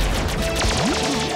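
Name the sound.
cartoon weapons firing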